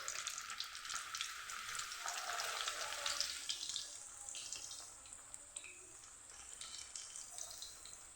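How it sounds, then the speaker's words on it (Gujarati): Puris of methi masala dough deep-frying in hot oil, a bright crackling sizzle that swells then eases into softer bubbling, fairly faint, with no voices. "આવી જ રીતે આપણે બધી પૂરીને તળી લેવાની છે"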